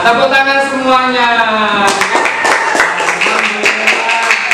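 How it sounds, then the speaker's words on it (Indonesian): A classroom of students bursts into clapping, a dense crowd of sharp hand claps that continues steadily after a teacher's voice speaks at the start. "Nah, tepuk tangan semuanya."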